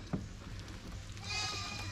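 A goat bleats in a farm goat pen as rain begins, a wavering cry rising partway through at moderate distance, with quiet background noise and a soft voice nearby.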